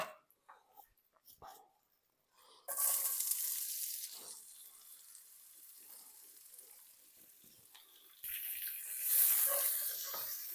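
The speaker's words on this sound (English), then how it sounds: "we're going to throw our onions in" Chopped onions sizzle in a hot cast iron skillet after hitting the oil, a steady hiss that rises sharply after a few quiet seconds and swells again near the end, with no talk over it.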